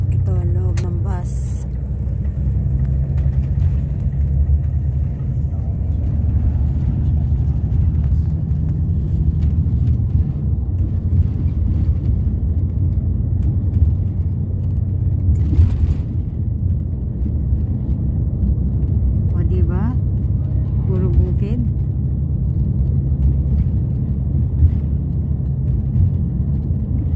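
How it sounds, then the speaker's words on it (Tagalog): Inside a moving bus: a steady low engine rumble and road drone run throughout, with a few brief faint higher sounds and some background voices. "Ito, loob ng bus."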